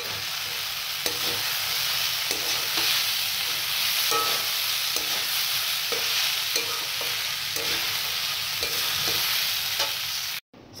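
Flattened rice pulao stirred in a frying pan with melting jaggery batasha: a steady close sizzle runs throughout, broken by regular scraping strokes of a spoon about once a second.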